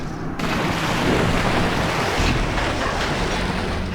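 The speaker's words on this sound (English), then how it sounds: "so that drained the water" Water draining away in Blood Omen 2, a loud, steady rushing wash like surf that starts abruptly and roars on without a break.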